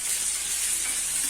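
Fish frying in a pan on a home stove gives a steady, dense sizzle that holds even and close throughout, with no talk over it.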